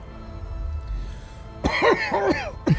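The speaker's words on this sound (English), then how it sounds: "It gets in your lungs and makes you cough." A person coughs in a quick series of three harsh, throaty bursts, close and loud, after a stretch of quiet background.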